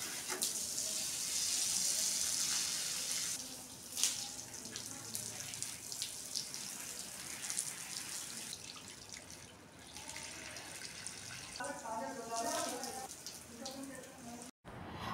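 Water poured onto household plants at night runs in a steady, close splashing stream, much like a running tap, with a voice speaking over parts of it.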